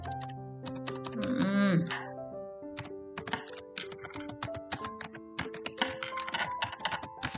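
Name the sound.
typing on a computer keyboard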